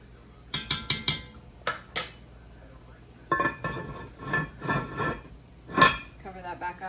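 Shrimp are stirred with a metal utensil in a boiling cast iron pot, producing a close series of sharp clanks and scrapes in uneven bursts, with quieter rattling between.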